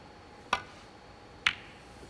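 A snooker break-off shot by Neil Robertson at the Champion of Champions tournament, two sharp isolated clicks of cue and balls about a second apart, crisp against a quiet arena hush.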